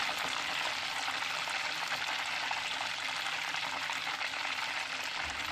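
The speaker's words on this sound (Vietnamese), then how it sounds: "Mình để lửa nhỏ mình chiên từ từ như vậy nè, thì nó đỡ có bị văng dầu lắm." Pork hock deep-frying slowly in oil over low heat produces a dense, steady sizzle and crackle, close and continuous, with no voices.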